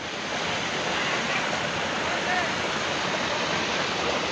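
A village waterfall near Thanagazi, Sariska, in Alwar, Rajasthan, pours in a steady, dense broadband rush, loud and close, with no break in the flow across the few seconds.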